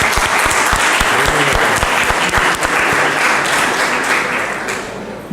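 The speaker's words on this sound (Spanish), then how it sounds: "Un aplauso para el caballero" Dense applause from an audience at a retro computing convention talk, steady and loud for several seconds as a prize winner collects his award, thinning slightly toward the end.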